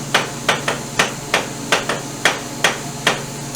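A plastic dead-blow mallet drives a part into a Greeves Anglian motorcycle, with about a dozen crisp, evenly paced knocks, close and loud over a low steady hum, and no talk.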